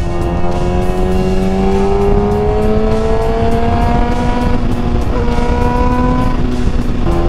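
A motorcycle engine runs close and loud, its tone climbing steadily as it revs up and then settling into a rising drone that repeats through the stretch, with no one speaking.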